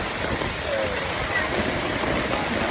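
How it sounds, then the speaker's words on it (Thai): Heavy rain pours over a forest campsite beside a stream near Nakhon Nayok, Thailand, making a dense, steady, close hiss that fills the whole stretch without a break. "ตอนนี้ก็ฝนตกหนักเลย"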